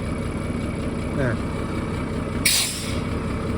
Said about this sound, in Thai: ช็อปล็อกเบรก